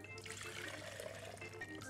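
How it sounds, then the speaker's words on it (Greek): Cold water poured into a kitchen jug to top up cooking juices for beef ribs in a pressure cooker, a quiet steady trickling stream close by. "Οπότε βάζω νεράκι εδώ, κρύο νερό"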